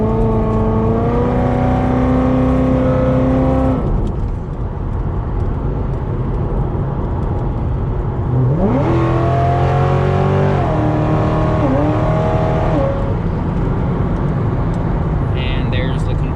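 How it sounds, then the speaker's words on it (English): A 700-horsepower Corvette accelerates onto a highway, its engine drone climbing in pitch, then dropping sharply as the torque converter locks up, followed by another rising pull and a steady cruise, loud and close throughout. "And there's the converter locking up."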